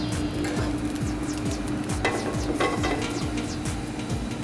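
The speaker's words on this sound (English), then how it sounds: "First off, we got a hot pan. We're going to add a little bit of oil." A little oil heating in a hot pan before garlic is sautéed for a local-style crab stuffing: a steady, close sizzle with a low rhythmic scraping underneath and a couple of brief sharper crackles partway through.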